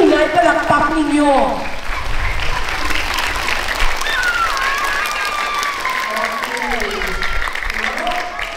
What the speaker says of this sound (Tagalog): Palakpakan natin sa na children